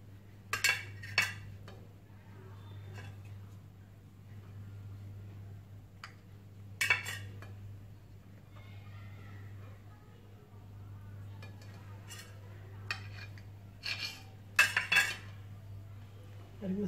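A knife cuts a homemade Christmas plum cake on a plate, producing scattered sharp clinks and taps of metal against the plate, separated by quiet stretches over a low steady hum.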